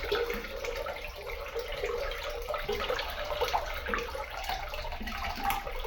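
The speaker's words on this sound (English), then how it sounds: "So here's one last flush for y'all." A flush on an ELT Consaul toilet, a steady rushing wash of water running continuously at moderate level with no talking.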